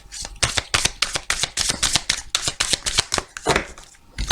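Angel oracle cards shuffled and drawn by hand: a fast run of crisp, rhythmic riffling and slapping bursts, close and fairly loud, easing off near the end.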